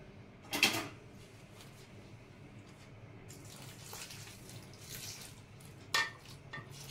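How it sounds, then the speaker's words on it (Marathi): Hot water is poured into rice batter for papad, with a brief splash near the start and a second one later, plus faint trickling and stirring sounds in a quiet kitchen. "अजून थोडंसं मी पाणी घालून घेते ह्याच्यामध्ये, गरम पाणी"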